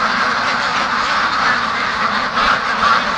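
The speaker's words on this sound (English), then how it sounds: "Oh, there's two ducks over there. Wild ducks." A pair of wild ducks with black heads quacks steadily over a hiss of outdoor noise, forming a dense, continuous chatter with no pauses for the full few seconds.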